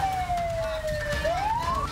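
An ambulance siren wails steadily from an ambulance trapped by a truck drivers' road blockade near a port, its tone sliding down and then sweeping back up, loud and fairly close over traffic rumble.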